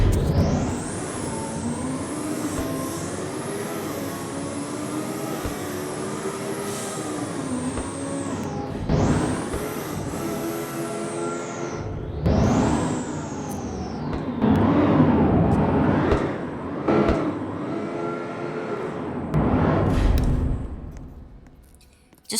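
A Speciale sports car engine from the game Car Dealership Tycoon revs loudly through long rising pulls, dropping off between gears and climbing again to a high-pitched wail, with sharp gear shifts and throttle lifts.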